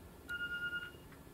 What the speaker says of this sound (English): What's that beeping sound that sounds exactly like a phone would?